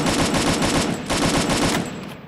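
Rapid automatic gunfire in the Free Fire battle royale game, a loud, dense burst of shots fired close by with no pause until it cuts off near the end.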